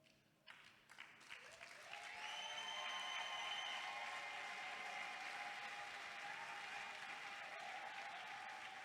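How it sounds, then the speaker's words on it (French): A church congregation breaks into applause for Julie Mambouene, the clapping swelling after a quiet start into a steady, fairly faint wash of hands over sustained musical tones. "Saluez très bien, applaudissez."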